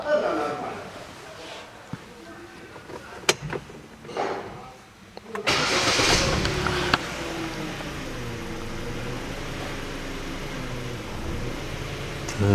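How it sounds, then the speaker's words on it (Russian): A 2012 Hyundai Solaris engine idles rough and misfires, its revs hunting unevenly; the loud, steady mechanical rumble kicks in partway through after quieter clicks and background noise at the start. "Так, обороты плавают, работает неустойчиво, с провалами, с пропусками"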